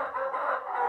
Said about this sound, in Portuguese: Olha o galo preto aí, ó.